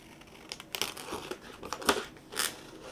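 Scissors cut through rub-on transfer sheets, making a few close, crinkly snips and paper rustles in quick irregular bursts, with no one talking.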